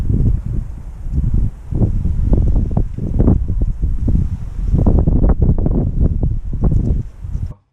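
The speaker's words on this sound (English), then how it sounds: "Oh, incredibly windy at the top of the hill." Strong, gusting wind roars continuously across the microphone at the top of a hill, buffeting in heavy low rumbles with no other clear sounds, then cuts off abruptly at the end.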